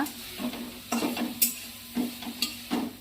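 Leafy greens are stirred and fried in a pan in a home kitchen, with a steady soft sizzle and several distinct scraping stirs in uneven rhythm, close and fairly quiet, with no talking.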